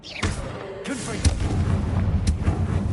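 A Confringo fire spell in Hogwarts Legacy goes off as a booming, artillery-like blast followed by thumping impacts and a rumbling tail, with a voice speaking over it.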